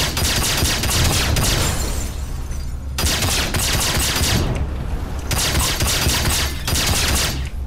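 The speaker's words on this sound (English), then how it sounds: "we have a little pistol, and I'm going to try to shoot my way out." Rapid pistol fire inside a ship cockpit in the Star Citizen game (Arena Commander 1.0, Avenger and Cutlass ships), loud dense bursts of shots in several volleys with brief pauses between them, no talking.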